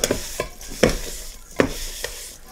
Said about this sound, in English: Mixing all my dry ingredients first.